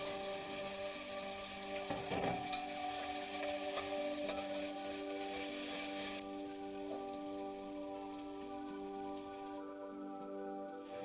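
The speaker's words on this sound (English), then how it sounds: "Fry it in the oil until it's fragrant" Ginger garlic paste frying in hot oil for a yogurt-marinated mutton curry, a continuous close sizzle and spatter with a faint steady hum beneath, softening slightly partway through.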